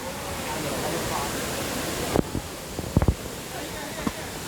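Tomalog Falls in South Cebu pours as a steady, broad rush of water, with a few faint knocks and a voice briefly over the roar.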